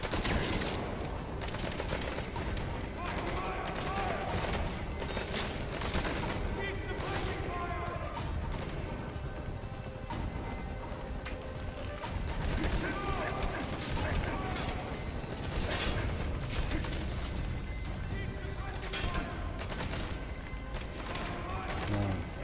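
Rapid bursts of gunfire in a Metal Gear Solid V: The Phantom Pain battle crackle densely and continuously, loud and close, with voices mixed in beneath the shooting.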